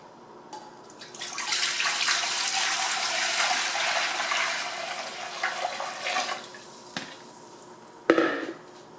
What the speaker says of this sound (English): So now it's time to put the water in our canner.